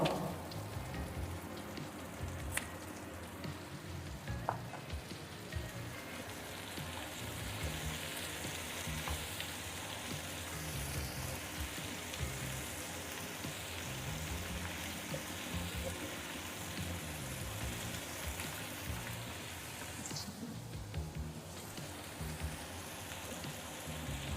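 Tomatoes and golden onions frying in a pan for peanut chutney: a continuous low crackling sizzle like light rain, with only faint occasional clicks and no voices.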